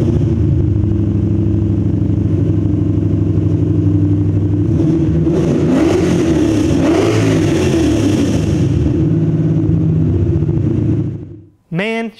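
A Ford Mustang with a swapped-in Coyote engine fires up and idles with a loud, steady rumble, then revs up in a surge midway before settling back down and cutting off near the end.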